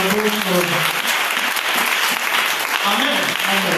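A church congregation claps and cheers for God, dense, continuous applause filling the room with a few voices calling out over it, loud and sustained.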